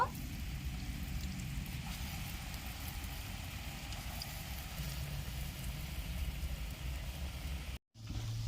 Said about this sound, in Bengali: কড়াইয়ের তেল গরম হয়ে গেছে এবার আমি বড়াগুলো ভেজে নেব